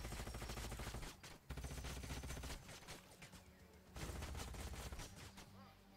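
Heavy rapid gunfire from units in Age of Wonders: Planetfall, dense volleys of shots in loud sustained bursts with short gaps, quiet overall level.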